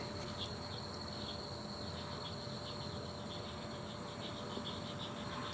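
Steady, faint chirping of crickets fills a quiet outdoor spring night, unbroken and continuous throughout.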